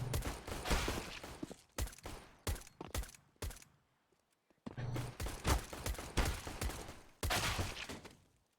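Gunfire from a shooter video game demo comes in repeated rapid bursts separated by short gaps, crisp and fairly quiet, with one longer silence in the middle.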